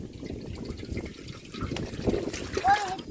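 Water trickles and splashes as it is poured into a pot for Hakka noodles in a village kitchen, a short uneven pour under a nearby voice talking.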